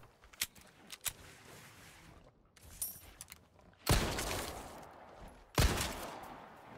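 Gunshots from Resident Evil 4 Remake: a few sharp, loud blasts standing out against quiet in-game clicks, footsteps and handling noises, with long gaps between shots.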